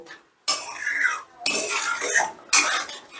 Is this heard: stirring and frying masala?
yes